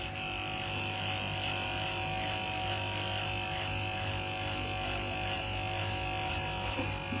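Electric clippers trimming a pet dog's coat at home: a steady, close electric buzz with a constant hum that runs unbroken throughout, occasional slight scratchy ticks as the blades move through fur.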